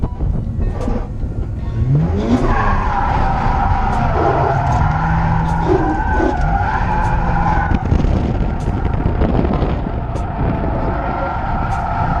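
A Mazda RX8 slides with loud, sustained tire skidding and squeal over a roaring engine, continuous for several seconds with rising and falling pitch.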